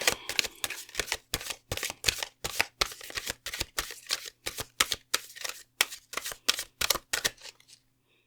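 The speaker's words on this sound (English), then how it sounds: "this one is a little bit harder to shuffle, so I apologize if this is a messy shuffle" Glossy oracle cards are shuffled by hand, giving a dense run of crisp, close riffling slaps and flutters for about seven seconds before stopping, with no voices.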